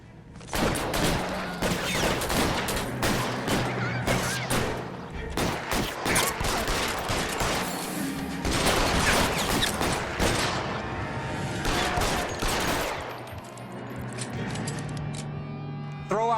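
A sustained gunfire shootout in the video game L.A. Noire, with dense overlapping shots and bursts of automatic fire, loud and close throughout, with voices faintly under the shooting.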